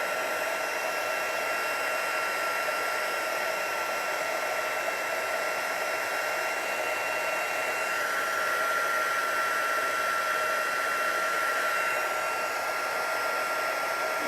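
A heat tool melts embossing powder with a steady, moderately loud fan-driven whoosh and hum that holds unchanged for the whole stretch, with no talking over it.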